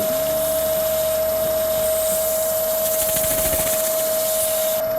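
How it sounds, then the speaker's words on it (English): A wood lathe turning a Purple Heart bowl at its lowest speed of 210 RPM gives a steady mechanical hum with a constant tonal whine, close and continuous, and a brief rougher patch of cutting near the end. "Right now we got 210 RPM, which is the lowest range that my lathe will run in."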